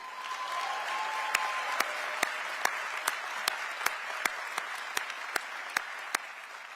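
An audience claps through a State of the City address by Atlanta's mayor, a steady wash of applause punctuated by one nearby clapper's sharp, evenly spaced claps.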